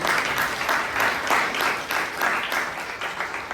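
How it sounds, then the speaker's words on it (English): A Bangalore Toastmasters club audience gives a round of applause, loud and dense clapping from many hands that stays steady throughout with no talking over it. "So please give Anirudh and Alok a big round of applause."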